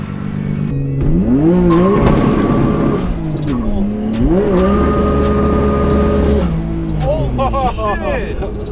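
Nissan Skyline R32 GTR with RB26 engine, tyres squealing in long loud rising and falling wails over a revving engine, with people talking and shouting throughout.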